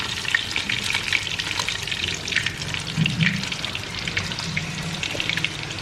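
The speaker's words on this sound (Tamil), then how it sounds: "ஸோ திருப்பி போட்டு அந்த சைடும் குக் ஆகட்டும்." Breaded chicken katsu frying in oil in a pan after being flipped gives a steady, close crackling sizzle with scattered pops, continuous throughout and no talk.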